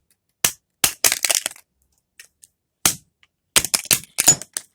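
An old flip phone is smashed in bursts of sharp cracking and crunching blows, irregular clusters of loud close impacts with plastic and glass breaking, separated by brief quiet gaps.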